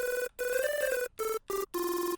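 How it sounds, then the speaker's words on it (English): Phone call effect preset from a Vanquish Serum bank in FL Studio: a bright, buzzy synth tone playing four short bursts separated by brief gaps, each burst stepping to a different pitch, loud and alone. "we're using the phone call effect from my Vanquish Serum Bank"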